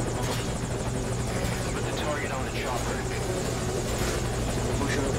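A helicopter in Metal Gear Solid V: Ground Zeroes drones loudly and steadily throughout, its rotor buzz constant from start to finish with no talking.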